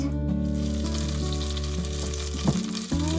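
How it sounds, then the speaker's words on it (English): Two tablespoons of butter melt in a large pot with a constant, close frying sizzle and a brief clatter near the end, without anyone talking. "melt 2 tablespoons of butter in a large pot"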